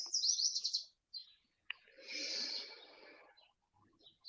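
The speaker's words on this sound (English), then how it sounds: "Sorry if the birds are loud" Close, loud bird chirps and twittering calls come in short bursts separated by brief silences.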